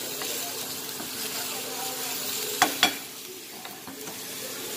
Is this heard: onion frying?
yes